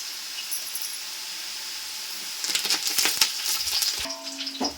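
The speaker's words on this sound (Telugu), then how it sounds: "ఎర్రగడ్డలు బాగా తోరగా వేగనివ్వాలి బాగా వేగినవి తర్వాత వేసుకోవాలి" Onions fry in oil in a pan for chicken biryani, starting as a faint steady hiss that grows into louder crackling sizzles with a few stirring scrapes near the end.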